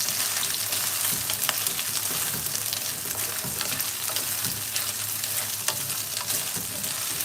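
Soybean chunks frying in oil for masala pasta, a dense continuous sizzle and crackle close up, with faint stirring taps throughout.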